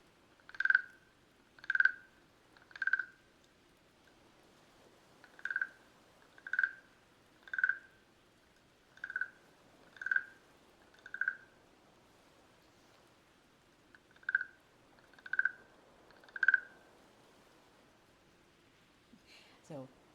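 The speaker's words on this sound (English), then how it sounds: "it is a wooden frog and a wooden instrument, and I can sit it over here to the side, and it gives a small croak" A small wooden frog percussion instrument gives a series of soft, evenly spaced croaks, about a dozen raspy clicks spread over twenty seconds in a very quiet setting.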